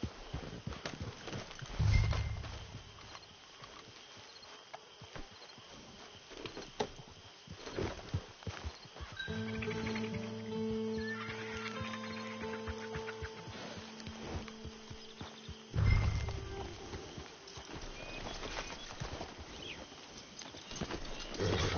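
Horse hooves clop in a steady walking rhythm in Red Dead Redemption 2, mid-distance and continuous, with a harness jingle and occasional low thumps and snorts along the way.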